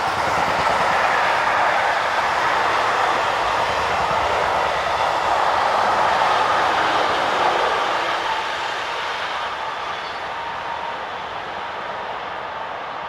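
Freight train with steel-carrying wagons passing on the Mâcon to Chalon-sur-Saône main line in France: a steady, broad rumble and rushing roar with faint wheel clatter, loud at first, then easing a little as the wagons roll by, with no voices.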